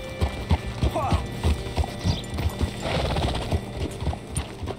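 Rhythmic clip-clop of horse hooves on a hard surface in Red Dead Redemption 2, evenly paced and close, with faint background sounds and a brief voice.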